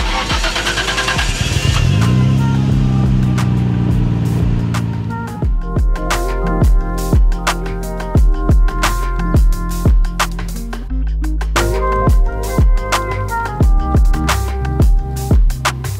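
A street-legal Nissan R32 GTR engine starts up, rises to a loud, steady idle-rev, then settles into a rough, pulsing idle over a strong low rumble, close by and heard alone.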